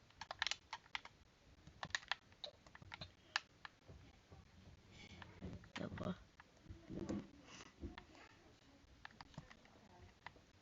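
Computer keyboard typing during a live stream, quick irregular clicks and taps in bursts, fairly close but quiet, with people talking intermittently.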